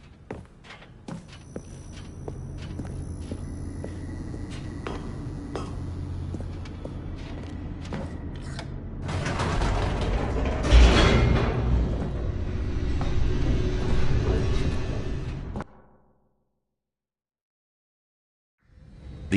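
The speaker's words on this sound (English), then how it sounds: "The elevator raced downward, plummeting towards an unknown fate." A descending elevator in The Stanley Parable gives off a steady low rumble and mechanical whirring, swelling louder toward the end before cutting off abruptly into silence.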